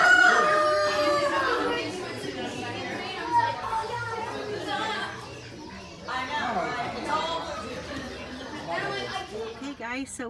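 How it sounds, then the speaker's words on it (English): Silkie chickens and a rooster at a small animal livestock auction, with crowing and clucking rising over steady crowd chatter, children's voices and nearby talk. "These are silkies, it looks like. Silky chickens. Some other little chickens."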